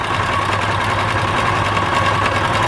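A sewing machine runs fast through quilt fabric, stitching a quarter-inch seam. Its steady, close mechanical whir and hum carry on alone without a break.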